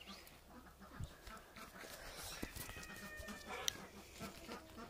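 Young chickens, between chicks and hens, cluck and call faintly at a distance amid a noisy outdoor farmyard background, with scattered brief chirps and a rooster-like cry.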